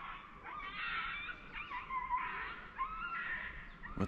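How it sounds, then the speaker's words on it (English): A dog whimpers and yelps in a series of high, wavering cries, outdoors on a rocky overlook in central Vietnam, moderately distant and without talk. "Sounds like a dog getting molested."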